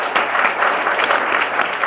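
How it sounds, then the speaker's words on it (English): An audience at a community organizing talk about industrial sites breaks into applause. The clapping is loud and dense, a steady crowd wash with no voices over it. "I think we owe them a big round of applause, people, for what they've done."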